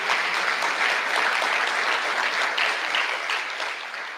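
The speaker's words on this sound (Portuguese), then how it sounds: "Vamos dar uma salva de palmas para essa equipe" Sustained applause from an audience at a national teaching congress, a dense steady wash of clapping with no voices, holding level for several seconds and easing slightly at the end.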